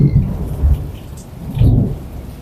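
A thunderstorm during the season's first rain: two heavy, rumbling thunder crashes roll in over a constant hiss of falling rain, loud and close.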